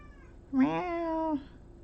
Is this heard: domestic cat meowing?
yes